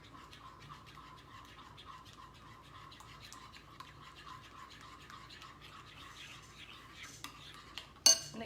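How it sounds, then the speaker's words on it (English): Spicy macaroni salad being stirred in a bowl with a spoon, a steady run of soft scraping and light clinking strokes close by, ending in a couple of louder knocks. "And then we're just going to carefully mix this together."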